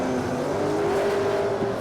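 Super saloon race cars, including a small-engined car against a big-horsepower machine, roar around a concrete-walled circuit in a brief, steady burst of loud engine drone with slight pitch shifts.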